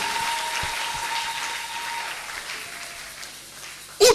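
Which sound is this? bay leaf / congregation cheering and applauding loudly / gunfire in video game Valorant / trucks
congregation cheering and applauding loudly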